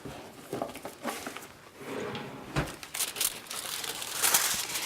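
Aluminum foil being pulled and handled in a kitchen for covering a 9 by 13 lasagne pan: close, irregular crinkling and rustling bursts throughout, with a sharper crackle near the middle and brighter crumpling toward the end.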